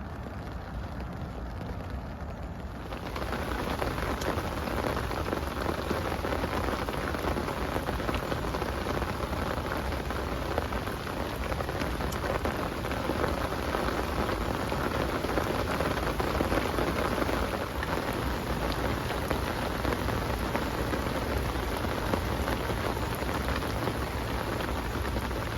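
Heavy rain pours down in a dense, unbroken hiss, starting after a quieter moment and then holding loud and steady on nearby surfaces for the rest of the stretch.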